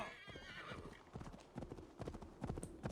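Steady clip-clop of horse hooves on a hard surface in Assassin's Creed Valhalla, a rhythmic series of close, distinct hoofbeats with a brief whinny, under a faint game-world ambience.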